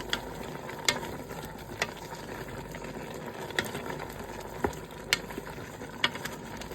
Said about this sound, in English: So I'll give all this a good stir.